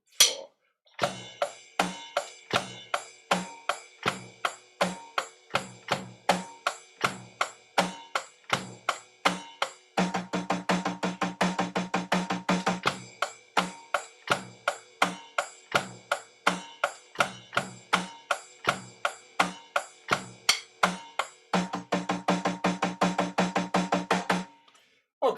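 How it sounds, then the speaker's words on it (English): Drum kit groove played on hi-hat, bass drum and snare, steady and crisp for about twenty-five seconds, with sharp regular hits, a denser stretch in the middle and a short pause near the start. "I've got hi-hat, bass drum and snare drum."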